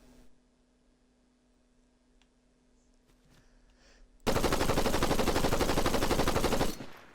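Assault rifle fire in Fortnite rips out as a loud, continuous burst of rapid shots lasting about two and a half seconds, preceded by a quiet lull with faint game ambience.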